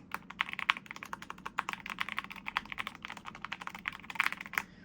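Steady, fast typing on an Epomaker Cypher 21 mechanical keyboard, close up, with crisp clacky keystrokes in an uneven rhythm and no voices.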